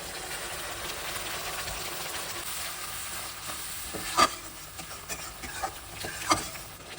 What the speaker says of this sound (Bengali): এবারে টক দইটা দিয়ে দেবো